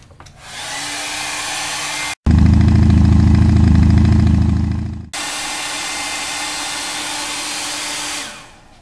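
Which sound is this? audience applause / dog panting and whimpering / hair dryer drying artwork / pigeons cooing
hair dryer drying artwork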